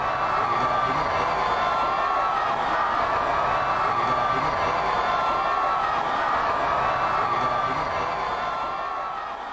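A large crowd in the Philippines cheers and applauds to greet Pope Francis' motorcade, a dense, steady roar of shouts, whoops and clapping that holds throughout and eases slightly at the end.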